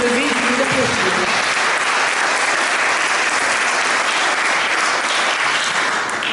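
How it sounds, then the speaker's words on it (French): Sustained applause from the room at a twinned-towns meeting in Auxerre welcoming a visiting delegation, steady and even, with a voice briefly audible at the start. "Merci de vous lever et de vous applaudir"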